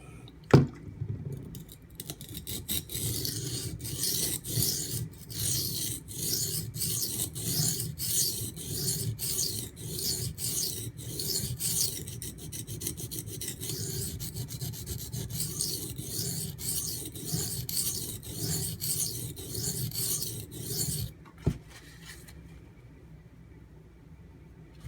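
Steel knife blade scraped in rapid, rhythmic back-and-forth strokes across Baryonyx American Mutt and Bull Thistle whetstones, close and gritty, with a sharp knock near the start and the strokes stopping shortly before the end; no speech.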